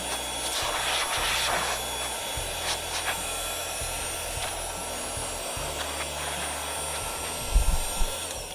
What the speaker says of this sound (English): you have a little blower